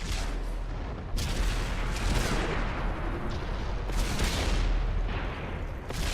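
Tank cannon fire in a World of Tanks-style competitive match, dense overlapping booms and shot impacts crowding together in a continuous loud barrage, several heavy blasts standing out.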